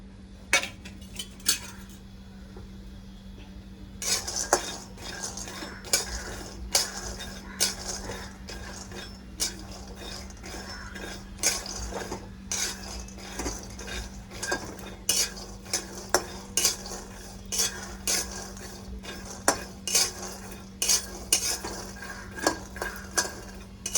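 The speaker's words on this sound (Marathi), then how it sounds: "भेंडीच्या मसाल्यासाठी शेंगदाणे भाजून घेते" Peanuts being dry-roasted for stuffed okra masala rattle and scrape in a pan as a spoon stirs them. Frequent metallic clinks sound over a steady hum, close and with no one talking.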